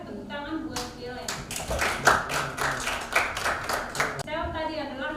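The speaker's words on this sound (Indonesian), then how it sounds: "tepuk tangan buat Gelen" A small classroom group claps for a student, a burst of quick scattered hand claps lasting a few seconds between quieter moments, with a voice speaking lightly around it.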